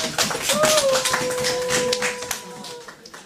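Congregation clapping in church to acclaim the Lord, a dense patter of hands with a sustained tone held above it.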